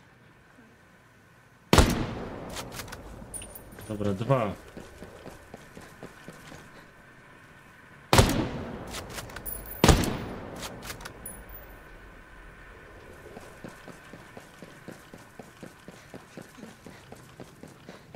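Gunfire in Ghost Recon Breakpoint arrives as three sharp, loud blasts spread across the stretch, each trailing into echoing rumble, with rapid footsteps and a brief spoken word between them.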